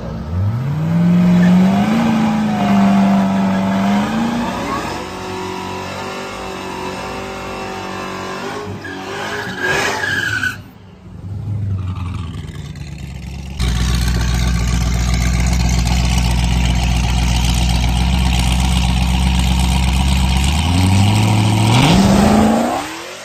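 A 2019 Corvette ZR1 makes a drag pass, its engine climbing loudly through rising shifts, a brief lift near the middle, then a sustained full-throttle roar to the end, with no talking.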